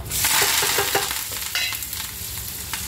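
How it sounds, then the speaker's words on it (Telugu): Chopped onion frying in hot tempering oil for a coconut curry, a steady close sizzle with soft stirring scrapes and a few light clinks against the pan. "ఇప్పుడు కూరకి ఎలా తాలింపు వేయాలో చూపిస్తాము"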